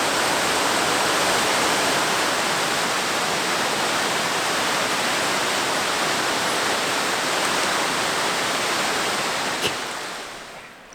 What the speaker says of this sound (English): From the boat, you can't get the sheer size of this waterfall.